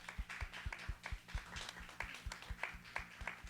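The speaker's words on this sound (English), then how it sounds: "And I just ask that we all give one last round of applause to Janine Joseph for being with us tonight." A small audience at an evening poetry conversation event applauds, steady quick claps heard faint and somewhat distant with no voices over them.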